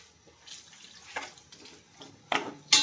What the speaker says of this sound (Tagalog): At mag-add po tayo ng kunting tubig.